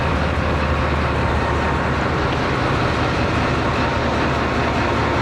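Chinese-built 2014 ZCU20 diesel locomotive of the Awam Express in Pakistan, a loud, continuous heavy engine roar heard up close with a deep low rumble and no talk.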